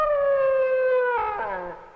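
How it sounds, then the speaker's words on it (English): An air raid siren wails from a film soundtrack, a steady rising-and-falling tone that wavers and begins to fade toward the end, heard alone without talk. "Sounds like a bomb siren going off."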